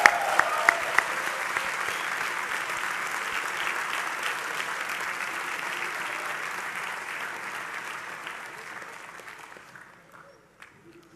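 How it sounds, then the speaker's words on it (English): Large crowd applauding the senior men of the class at a college opening convocation in a big hall, with a few cheers at the start, then steady clapping slowly fading to scattered claps. "please stand and receive much deserved applause"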